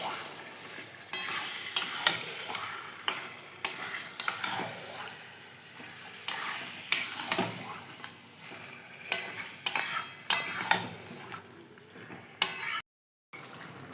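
Chicken being stir-fried for mustard chicken, scraped and turned in a sizzling pan with repeated bursts of stirring and clattering over a steady fry, close and fairly loud, with no speech.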